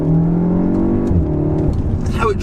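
A Volkswagen Golf R with four-wheel drive accelerates, a loud close engine rising in pitch, dipping at a gear change and then climbing again, with a voice talking over it.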